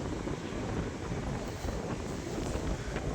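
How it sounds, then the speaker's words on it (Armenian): Cold wind blowing outdoors on a New Year's night in Spain, a steady broadband rush buffeting the microphone throughout with no break. "քամիա ժողովուրդ, լավ ցուրտ է"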